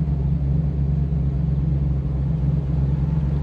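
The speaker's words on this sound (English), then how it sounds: "It just has a nice idling sound to it also." A 1971 Plymouth Hemicuda convertible idles with a deep, steady low-pitched rumble and throb, loud and unbroken, with no talking over it.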